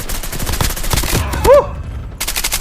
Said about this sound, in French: D'où viennent tous ces tirs? J'entends des tirs